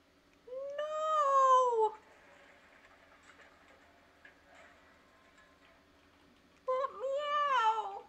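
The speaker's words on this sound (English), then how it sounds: "That meow!" Two loud, drawn-out cat meows from a cat video game, one early and one near the end, separated by a quiet stretch with faint background sounds.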